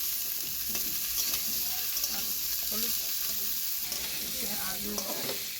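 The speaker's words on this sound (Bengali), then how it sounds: "আলু কোয়াশটা ভালো করে নেড়ে চেড়ে ভেজে নিচ্ছি।" Diced potatoes sizzling in a pan while being stirred and turned with a spatula, a steady frying hiss broken by scraping and clinking strokes, close and alone.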